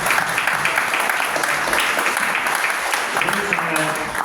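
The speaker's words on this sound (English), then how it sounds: "Let's give George a round of applause" An audience at a tech demo night applauds a presenter, a sustained, even roar of clapping through the whole stretch, with a voice talking over it toward the end.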